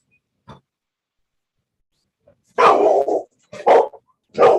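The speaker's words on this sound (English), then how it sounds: "My dogs are barking." Several sharp dog barks in quick succession, close and loud, heard over a courtroom video call, following a brief faint sound and a short quiet pause.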